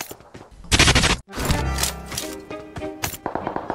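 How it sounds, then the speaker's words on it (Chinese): Rapid gunfire bursts crack out in a battle royale shooter game, loud and close, with sharp repeated shots clustered in a dense volley followed by scattered further reports and clatter. "宿舍那边有枪声"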